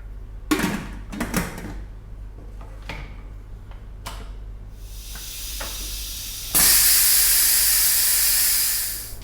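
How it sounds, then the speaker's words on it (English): A pressure cooker holding cooking meat hisses loudly, up close. A few sharp ticks and clacks come first, then a rising steam hiss that swells into a strong, steady jet before easing off. "once it reaches pressure, I'm going to let it go for about 8 or 9 minutes"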